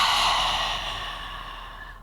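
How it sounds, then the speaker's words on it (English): A single deep exhale during a guided fitness warm-up, a long breathy rush of air that starts loud and slowly fades over about two seconds, close to the microphone with no talking. "So take a deep breath,"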